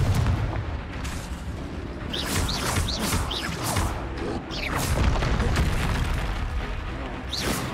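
Confringo blasting spells go off in the Hogwarts Legacy video game, making repeated booming explosions and crashes that overlap in a dense, loud barrage with whooshing spell effects among them.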